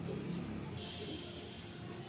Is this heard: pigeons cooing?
yes